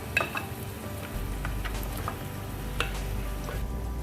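Beef pieces added to masala in a pan for a Kerala-style beef roast, a low continuous sizzle of frying with occasional scrapes and knocks of a spoon stirring the pan.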